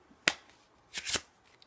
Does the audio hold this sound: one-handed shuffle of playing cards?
yes